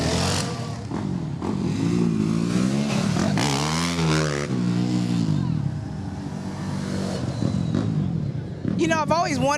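A motorcycle passing at speed during a St. Patrick's Day parade, its engine rising and falling in loud, close sweeps mixed with crowd noise and people talking nearby.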